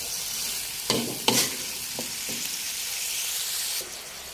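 Cauliflower stir-fried in a pan, a soft continuous sizzle broken by a few sharp scraping stirs of the spatula near the start and a final clatter, no speech.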